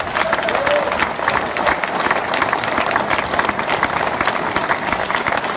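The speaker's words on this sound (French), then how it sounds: "que je vous demande d'applaudir." Audience applauding at a public talk in Guadeloupe, a steady, dense wash of clapping from a sizable crowd held at even loudness throughout, with no speech over it.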